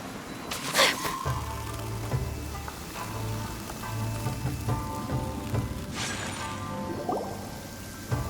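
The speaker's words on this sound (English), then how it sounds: "Let us find shelter from the rain." Rain falling in the Genshin Impact video game, a steady close patter and hiss of drops with a low ambient hum and a few brief tonal game chimes layered over it.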